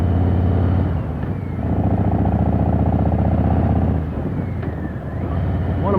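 A motorcycle is ridden on a road with its engine note loud and close, a steady droning hum with slight shifts in pitch and some clattering vibration.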